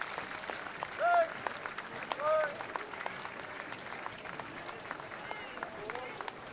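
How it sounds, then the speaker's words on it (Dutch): Warm applause from a parade crowd greets a detachment of veterans at a military parade marking 70 years of liberation, a steady outdoor clapping that swells briefly twice before settling into a continuous wash. "Je mag ze een warm applaus geven,"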